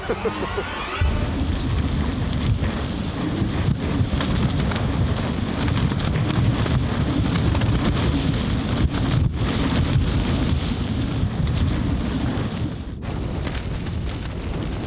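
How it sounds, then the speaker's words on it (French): Strong, steady wind in a snowstorm at a ski camp, roaring and buffeting the microphone without letup, a dense low rumble filling the whole stretch with no voices. "Le vent souffle fort encore."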